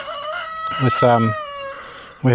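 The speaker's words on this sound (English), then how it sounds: "one of our Brahma roosters is going to be rehomed" A Brahma rooster on a Portuguese farm crows nearby in a clear, drawn-out call, and a second crow begins at the end, with faint outdoor background behind it.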